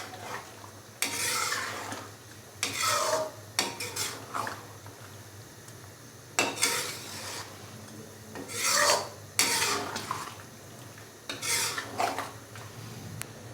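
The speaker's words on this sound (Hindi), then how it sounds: "क्रीम डालने के बाद इसको अच्छे से मिक्स करेंगे।" Fresh cream being stirred into white chicken karahi in a pan, a spoon rasping and scraping against the metal in repeated bursts of mixing, close and moderately loud, with no talking.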